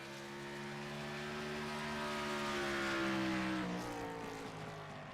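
A race car on a timed lap at the Glen drones with a steady engine note that swells as it approaches, then drops in pitch as it passes and fades slightly. It is heard alone, with no talking.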